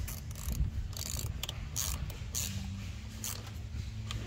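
A wrench tightening the negative terminal on a Mazda's car battery gives a quiet, rapid clicking ratchet in short bursts, close up and repeated several times, with no speech.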